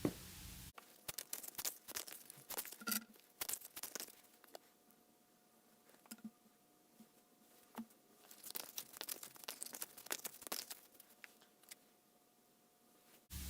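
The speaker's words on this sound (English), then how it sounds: "now I'm going to shuffle some more tarot and shuffle some oracle cards" Quiet papery shuffling and crisp riffles of tarot and oracle cards in repeated bursts, with soft slaps and rustles between them, close up, no talking.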